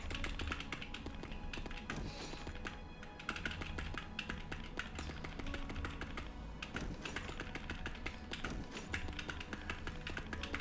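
A spell name is typed on a computer keyboard: quiet, rapid clicking keystrokes in an irregular stream running throughout, with no talking.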